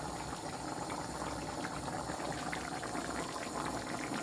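A pot of water rolls at a steady boil while pasta cooks, giving a continuous close bubbling and hissing with no talk over it.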